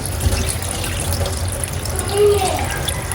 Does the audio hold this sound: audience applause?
no